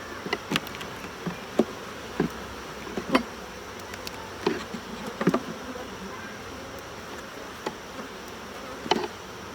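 Honeybees buzz around an open hive during an inspection, a soft constant drone with occasional louder passes of bees flying close, plus faint knocks and clicks of frames being handled.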